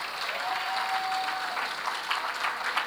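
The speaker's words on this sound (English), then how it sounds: "let's give them a round of applause" An audience at a university long service awards show applauds the planning committee, a sustained, even rumble of many hands clapping at a distance, with a faint tone running briefly through it.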